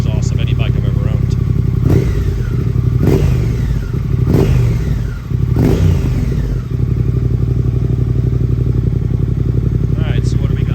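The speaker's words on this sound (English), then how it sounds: "for a stock exhaust, this is probably the best sounding stock exhaust of any bike I've ever owned" A motorcycle with its stock exhaust idles with a loud, steady rumble and is revved several times in quick succession near the middle, each rev a sharp rise and fall over the engine's constant beat.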